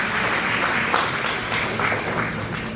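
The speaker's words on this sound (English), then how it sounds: "I'd like to give the panelists a round of applause." Steady, dense audience applause for panelists at a community celebration event, a continuous even wash of many hands clapping at moderate volume without speech.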